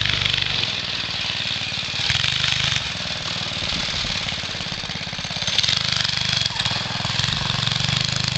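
Small go-kart engine running steadily outdoors in the snow, a continuous buzzing drone at moderate loudness that rises slightly a few times over the stretch.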